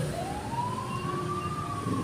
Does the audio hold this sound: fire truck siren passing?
yes